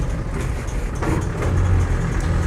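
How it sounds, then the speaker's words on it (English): A Land Rover 90 2.5TD hardtop rumbles along from inside the cab, with a big winch loose in the back adding a rattle over the steady low engine drone. "Stuff I've got in the back is really rattling, but it is it's a big winch I've got in the back rather than the vehicle itself."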